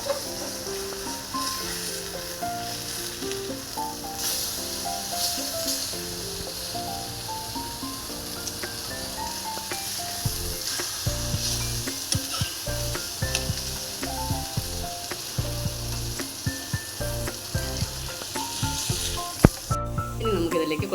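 Fish sizzles and fries steadily in a pan, with a few scraping and clinking sounds as it is turned over, a continuous close crackle throughout.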